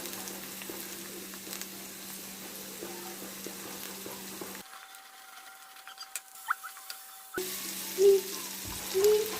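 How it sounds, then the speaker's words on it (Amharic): Zucchini frying lightly in a pan gives a soft sizzle with scattered pops and scrapes. The sound cuts out briefly midway, then returns with a few louder clatters near the end. "ስለዚህ እሷንም ዝም ብዬ ለብ አረጋትኝና ትንሽ ቀስ አድርጌ ለብ አረጋታለሁ።"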